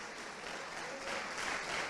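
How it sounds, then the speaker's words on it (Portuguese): A congregation at an evangelical church service claps steadily together, a dense, even wash of applause filling the room with no voices over it. "aplauda o Senhor"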